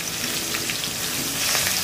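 Two medium onions cook in a tempering of mustard seeds, cumin, curry leaves and a pinch of hing, giving a dense, even sizzle that stays steady and close for a couple of seconds.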